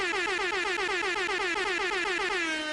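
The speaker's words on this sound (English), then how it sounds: "Some air horns coming your way in life." Air horn sound effect blasting loud and continuous, a brassy, strongly pitched tone with rapid pulsing wobble that sags lower in pitch at the end, alone without any talk.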